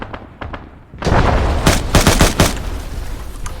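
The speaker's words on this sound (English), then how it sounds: "It's a 50 cal on the roof of the construction site." Burst of heavy .50 cal machine gun fire in a combat video game, loud rapid booming shots after a few sparse single reports, echoing over a noisy background with no talk.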